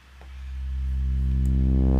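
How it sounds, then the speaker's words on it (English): A big synth sweep built in Ableton Live swells up from quiet, a thick sustained tone with a dense stack of even harmonics, growing steadily louder and holding without any reverb tail. "it's going to take the sound of that big sweeping sound before it has a reverb tail on it"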